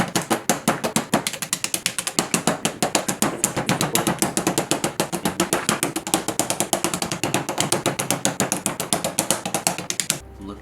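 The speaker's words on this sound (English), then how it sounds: "So now we're gonna put in our switches." Mechanical keyboard switches being pressed into a custom keyboard build make a long, steady run of sharp plastic clicks and clacks, several per second, close and without talk.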